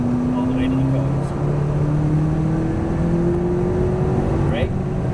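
McLaren MP4-12C sports car accelerating on a Las Vegas exotic-car track course, a steady loud engine drone with rising pitch heard from inside the cabin.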